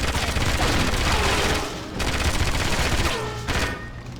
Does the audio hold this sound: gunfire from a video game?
yes